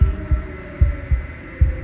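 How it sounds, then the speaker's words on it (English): In the video game Slay the Princess, a wooden and fleshy heart beats in a steady unbroken rhythm, five deep low thumps over a soft droning hum, without speech. "a wooden and fleshy heart beating with an unbroken rhythm"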